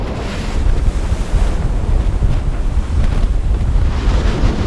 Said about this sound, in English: I'm surprised by the big waves out here.